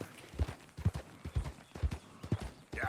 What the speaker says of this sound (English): it's not just generic horses and wagons going past